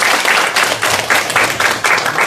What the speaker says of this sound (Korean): 여기까지 인도하시고 찬양 받으신 하나님께 감사의 박수를 드리겠습니다.